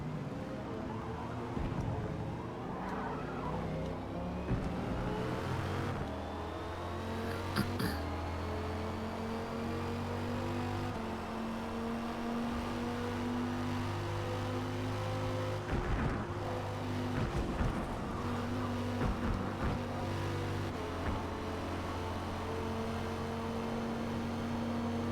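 Steady race car engine drone in Forza Motorsport, with rising and falling tonal engine notes as gears shift, continuous and fairly close, several cars audible together with no talk over it.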